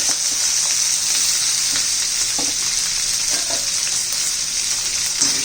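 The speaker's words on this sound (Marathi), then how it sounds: "बघा जिरी मोहरी तडतडायला लागली आहे" Cumin and mustard seeds crackle and pop in hot oil, a steady, dense sizzle with scattered sharp spits, close and loud, running throughout with no talk.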